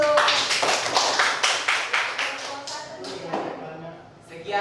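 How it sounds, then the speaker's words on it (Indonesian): A classroom group claps together, a dense burst of applause that thins out and fades over several seconds, with a last few scattered claps at the end. "berikan tepuk tangan dulu"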